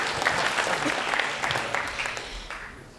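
A short burst of audience applause greets a contestant at a science competition between colleges, dense clapping near and full at first, then thinning slightly as it fades over a few seconds.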